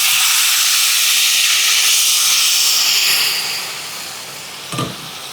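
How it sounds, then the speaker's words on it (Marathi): Steady, broad hiss of steam from a covered pan of brinjal curry on low heat fills the first few seconds, then eases to a softer hiss, with a brief light clink near the end. "झाकण ठेवायचं आणि 5 मिनिटं अगदी मंद आचेवर वाफ काढून घेऊया"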